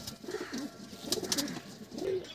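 Pigeons, including a Saharanpuri pair, coo close by in repeated low rolling calls, with a few soft flutters and no voices.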